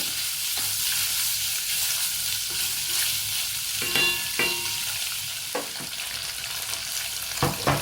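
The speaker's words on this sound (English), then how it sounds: "a little bit of oil in the saucepan and cook the garlic up until it's a little bit crystallized and fragrant" Garlic and tofu fry in oil in a saucepan, giving a steady close sizzle broken by several sharp scrapes and knocks of stirring, with no voices.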